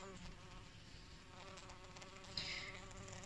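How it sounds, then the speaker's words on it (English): Bee buzzing indoors in a room where resin coasters are being made, a steady faint droning hum throughout with a brief louder swell near the end as it moves closer. "I have a bee issue. I'm just going to chuck him outside."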